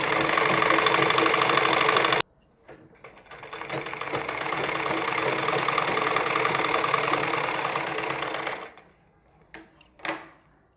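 A sewing machine stitches a ladies suit sleeve in two bursts, a loud steady whir that stops abruptly, then runs again for several seconds, followed by a few soft clicks and handling knocks.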